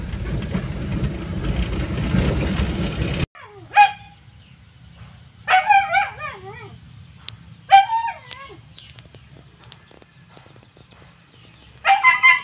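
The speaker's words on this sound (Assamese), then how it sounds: "কুকুৰকেইটা আনি বান্ধি থৈ দিছে, এনেকুৱা ভুকি আছে।" Tied-up dogs bark in short separate bursts, fairly close, with long quiet gaps between them after an opening stretch of steady noise.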